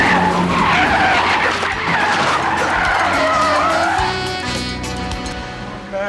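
Car tires skid and squeal loudly on a road for several seconds, a long screeching slide with engine noise close by, no talking over it.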